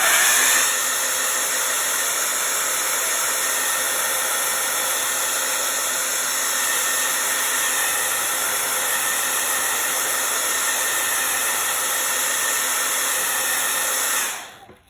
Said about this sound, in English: I'm gonna use the blow dryer just so we don't have to sit here and wait for mine to dry